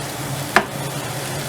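Masala frying in a pan for mutton curry, a steady sizzle broken by a single sharp scrape of a spoon stirring it, close and alone.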